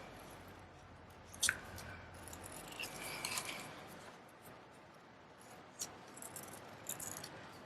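Scissors snip around paper images for a bear card, faint close crisp clicks and cuts scattered irregularly over quiet room tone.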